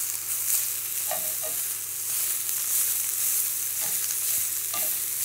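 Spinach frying in a pan alongside tofu, a steady close sizzle with occasional stirring scrapes and clicks throughout, no talking.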